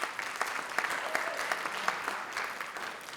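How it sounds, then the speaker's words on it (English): A short burst of audience applause at a keynote dinner, with a fairly sparse, moderate clapping from a seated crowd and a few sharper individual claps standing out. "that deserves a round of applause"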